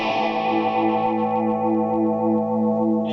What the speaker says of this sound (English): But he has his chorus set quite wild. It's a kind of a big pulsey kind of sound.